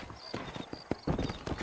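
Horse hooves clip-clopping at a walk in the Red Dead Redemption video game, a close, brisk run of hoof knocks with a brief flurry near the end, no talk.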